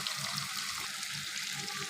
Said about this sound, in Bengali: এখন দিয়ে দেবো ঝোলের পানিটা